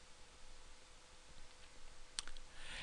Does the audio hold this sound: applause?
no